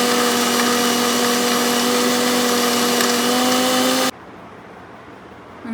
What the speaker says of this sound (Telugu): ఇప్పుడు ఇదంతా బాగా గ్రైండ్ చేసేసుకోవాలి.